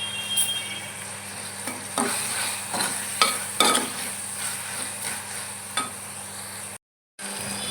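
Onions, garlic and spices sautéing in oil in a pan for a pepper-garlic kuzhambu, a soft steady sizzle broken by repeated scraping and stirring clicks from a spoon, with a brief silent gap near the end.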